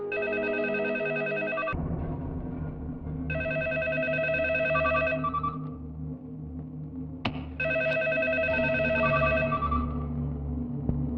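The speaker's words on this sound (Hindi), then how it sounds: "फोन" A telephone bell rings loudly in repeated bursts, three long trilling rings separated by short gaps, over a low background rumble in a tense action scene.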